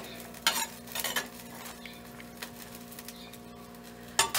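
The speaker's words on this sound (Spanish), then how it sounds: "Entonces lo vamos a dejar que se fría tantito el frijolito" Beans frying in a clay pot with a sizzle under the stirring, with a few short clinks of a utensil against the pot and a final scrape near the end. There is no talk.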